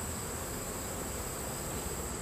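Honeybees on an open hive frame with drones, young bees and newly emerging bees give a steady, dense buzzing hum that stays even and close throughout, with no talk.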